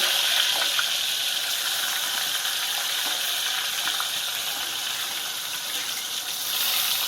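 Raw mango pieces hitting hot oil with cumin seeds in a pan, a steady bright sizzle and hiss that runs without a break, moderately loud and close.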